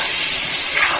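Taro chunks with turmeric fry in oil, giving a loud, close hiss that holds steady for about a second.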